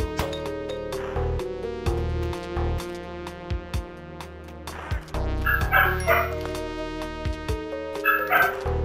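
Several dogs barking and yipping in bursts, fairly close and loud, over continuous music from the Spelunky platform game.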